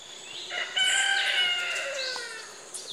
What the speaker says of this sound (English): there's cockerels and all kinds of birds